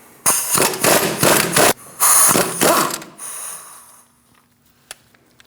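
A hand ratchet with a 21mm socket loosens the strut bolt nuts on a 2012-2020 Chevrolet Sonic steering knuckle, giving several bursts of loud, close clicking separated by short pauses, then a faint clack.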